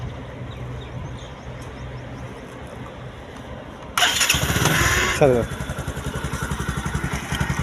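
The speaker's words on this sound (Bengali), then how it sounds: "তো বাইকটির সাউন্ড কোয়ালিটি দেখাবো" A Bajaj Discover 125cc motorcycle sits quietly at first, then its engine starts with a sudden loud burst and settles into a steady, close, rhythmic idle putter while someone talks.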